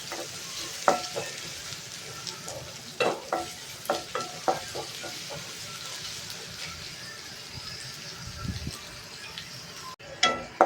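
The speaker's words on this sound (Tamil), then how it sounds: "அதுக்கும் 2 பச்சை மிளகாய், ஒரு கொத்து கருவேப்பிலை, இது நல்லா வணங்கட்டும்" Green chillies and a sprig of curry leaves sauté in a pan for a crab gravy, a steady sizzle broken by repeated sharp scraping stirs, with a brief pause near the end.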